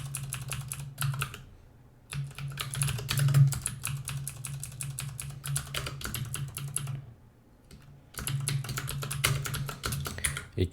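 Code is typed on a computer keyboard in dense, rapid, close-up key clatter that runs in bursts, pausing twice before resuming, with no speech.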